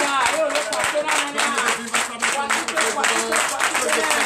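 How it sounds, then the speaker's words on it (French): Rhythmic clapping and applause fill a Sunday church worship service in Comè, Benin, dense and continuous, with a voice speaking loudly over it. "Donnez de vive acclamation le président Jean-Paul, au nom de Jésus."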